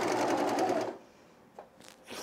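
An overlock serger runs fast, stitching fabric for men's cargo shorts in a loud, whirring burst of about a second, then stops, leaving faint clicks and handling noise.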